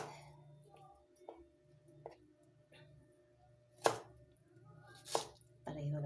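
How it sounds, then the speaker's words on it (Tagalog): Knife strokes slice through taro (gabi) on a board in a home kitchen, several separate cuts spaced a second or so apart, quiet and close with a low hum underneath. "yung hiwain ko guys, yung gabi"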